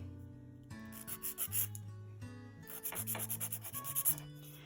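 Nail file rasping across a gel nail in an almond-shape manicure, short close strokes in uneven bursts over steady low background music, with no voices.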